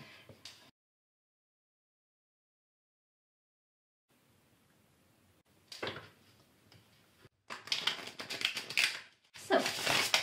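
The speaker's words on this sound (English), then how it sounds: "Let me give your cards a quick shuffle." A deck of tarot cards being shuffled, heard as soft papery riffling and flicking bursts after a long stretch of silence, growing denser and louder toward the end.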